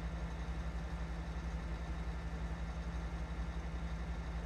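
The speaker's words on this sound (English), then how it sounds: "Get a listen to the engine sound." A Krone Big M 500 self-propelled mower engine in Farming Simulator 22 runs at a steady idle, a low, even mechanical drone with no talk over it.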